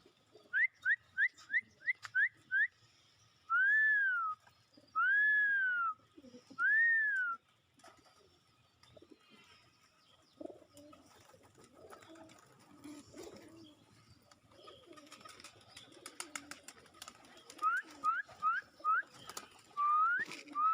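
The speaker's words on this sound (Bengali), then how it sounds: "কবুতরগুলা দেখেন কি অবস্থা," Pigeons gather at a food tray and give repeated cooing calls in short bursts, with quiet shuffling and faint rustling between the bursts, close by and with no talking.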